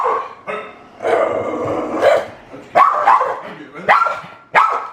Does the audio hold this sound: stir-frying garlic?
no